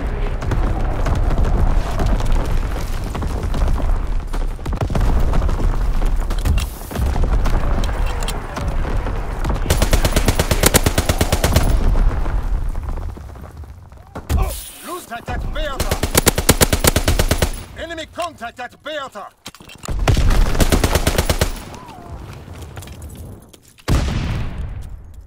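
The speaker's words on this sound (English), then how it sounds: "Strafing run inbound." Bursts of rapid machine gun fire from a strafing run in the World War II shooter Call of Duty: WWII repeat in loud, dense volleys, separated by short gaps with other battle noise.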